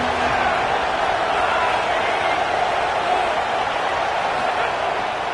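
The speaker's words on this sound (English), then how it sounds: "This crowd ready to make its presence known." Dense, steady roar of a large crowd filling a football stadium at an LSU game, a continuous wash of cheering noise at constant loudness with no distinct voices standing out.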